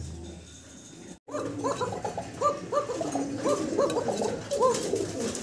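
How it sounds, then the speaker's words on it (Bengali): A white Arabian pigeon coos near the microphone in repeated soft, throaty rolling phrases that run steadily after a brief pause, with faint background noise. "সাদা আরাবিয়ান ককার ডাক শুনলেন?"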